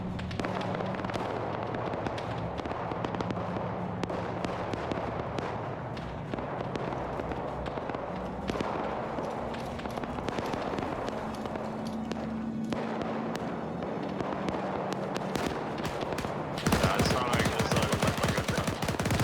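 Continuous rumbling explosions and rapid crackling blasts from bombs dropping in a World War II German versus Soviet battle video game, loud and dense throughout, with a heavier burst near the end.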